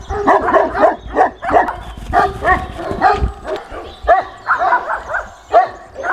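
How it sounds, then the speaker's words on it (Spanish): Several dogs bark repeatedly in quick bursts nearby, with low growling between barks and a mix of harsher and higher yaps. "Es un perro ahí gruñendo y todo."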